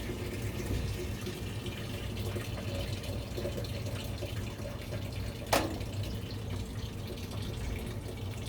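Water pours steadily into a washing machine as it fills, a constant rushing hiss heard close up with a single sharp click midway and no talking.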